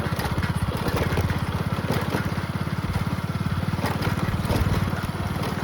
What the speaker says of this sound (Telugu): ఈరోజు ట్రాక్టర్కి రెస్ట్ ఇచ్చి బైక్ మీదే వెళ్తున్నాం అనమాట.